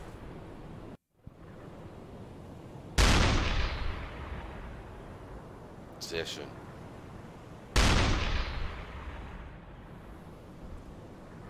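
Two loud cannon blasts from a U-boat deck gun in the game UBOAT ring out several seconds apart over a constant wash of sea and wind, each decaying slowly, with a short spoken German remark in between.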